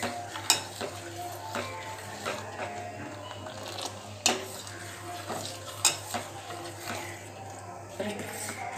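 Semolina (rava) being stirred in a pan for a fruit rava dessert, with repeated scraping and clinking of a spoon against the pan at an irregular rhythm, close and moderately loud.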